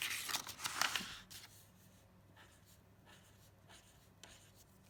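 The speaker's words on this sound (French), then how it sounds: "Je tourne ma feuille et je termine mon cercle de boucles." A pen draws a circle of loops on a sheet of paper, scratching steadily, louder and busier at the start, then softer strokes continue with no talk.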